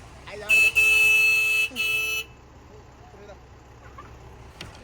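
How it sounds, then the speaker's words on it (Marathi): A loud car horn honks in two long blasts with a brief break between, then cuts off, leaving quiet outdoor background noise on the road to Shimla. "हॉर्न मार."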